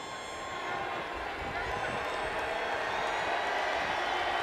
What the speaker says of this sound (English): This preseason crowd getting into it a little bit now.